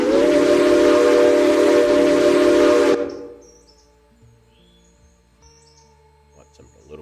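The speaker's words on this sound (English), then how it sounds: "I've been loving the 6 chimes for my passenger steamers" A six-chime steam whistle on a passenger steam locomotive in a railroad game sounds one loud, steady, harmonious blast for about three seconds, then cuts off, leaving near-silence with faint scattered sounds.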